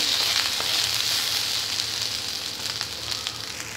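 Potatoes and onions fry in a pan over a medium flame with cumin and coriander powder, a steady close sizzle with faint crackles throughout.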